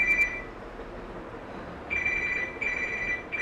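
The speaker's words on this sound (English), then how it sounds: "Somebody's phone is ringing." Mobile phone ringing in a yoga therapy class, a bright electronic tone sounding in short repeated bursts with gaps, moderately loud over a quiet room.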